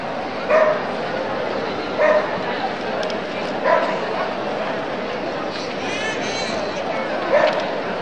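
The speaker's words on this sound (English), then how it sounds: "From Austria, we have the Border Collie Dogs, led by Sonja Nagel." A Border Collie at a world championship agility jumping run in Helsinki barks in sharp single yips roughly every one to two seconds, cutting above continuous crowd chatter and arena noise.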